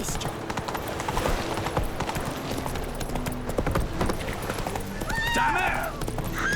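Roach, the horse from The Witcher 3, gallops in a steady clip-clop of hooves under a dense game soundscape, with a brief whinny-like call rising near the end.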